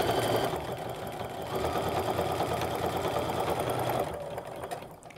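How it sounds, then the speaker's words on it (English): A sewing machine stitches seams on a fabric nesting bag, running steadily and loud up close with a fast mechanical hum and rattle, then slowing to a stop near the end. "stitch all the way to the end, and reinforce again"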